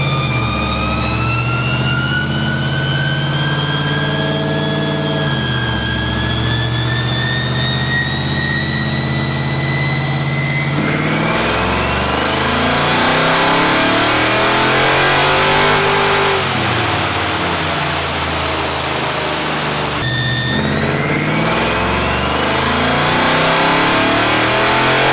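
Hemi V8 with a Texas Speed camshaft pulling hard on a dyno, a loud, close, continuous roar that climbs steadily in pitch, drops back at shifts and climbs again over about twenty-five seconds, with no talk.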